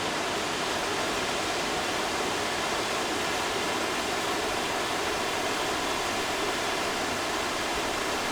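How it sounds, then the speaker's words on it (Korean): Miin waterfall, a mountain cascade at 700 m altitude carved into rock by river water, roars as a steady, dense rush of falling water with no pauses or voices. "해발 700m의 미인 폭포는 50천 강물이 수만 년 동안 바위 지형을 침식시켜 만들어진 곳이다."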